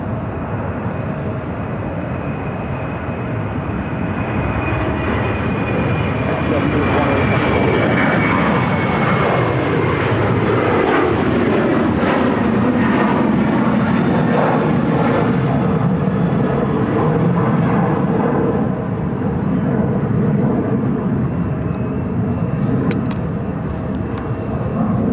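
An American Airlines Boeing 737-800 bound for Denver roars at Phoenix airport, a loud, sustained jet engine noise whose whine sweeps and swells, then eases toward the end.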